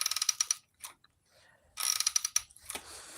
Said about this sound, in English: If it's making this noise, your clutch is good.